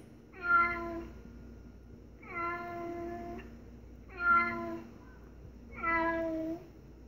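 Four drawn-out cat meows played from a nearby Google Home smart speaker, spaced a second or two apart, standing out clearly against faint background noise.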